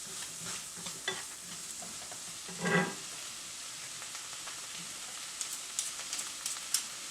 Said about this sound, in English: Basically, you're just lightly sauteing them